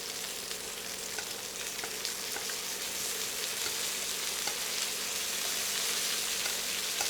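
Hawaiian-style smoked pork pieces frying in a pan, their fat rendering with a steady, dense sizzle and crackle that stays close and even throughout, with no talking.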